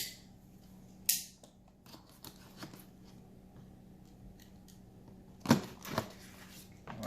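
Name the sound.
cutting through the seal on a DJI Mavic Mini box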